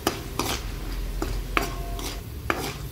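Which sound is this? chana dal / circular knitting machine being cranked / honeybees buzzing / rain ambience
chana dal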